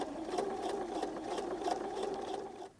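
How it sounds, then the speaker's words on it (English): A sewing machine running a regular straight stitch along a hem with fringe, a steady fast mechanical whirring and clatter that plays alone for a few seconds before stopping abruptly. "I'm just stitching a regular stitch going on the 1/4 inch mark,"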